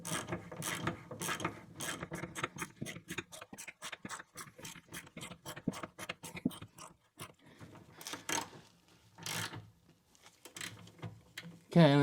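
Rapid ratchet clicking in quick bursts as bolts on a Renault Scenic rear suspension are snugged down, loud and close, with pauses between runs.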